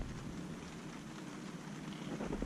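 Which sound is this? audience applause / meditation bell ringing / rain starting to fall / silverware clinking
rain starting to fall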